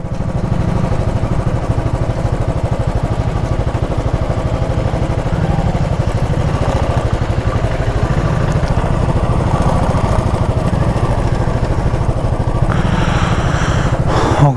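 A motorcycle engine runs steadily near the Nepal border crossing, a loud, even, close-up rumble that continues throughout with little change.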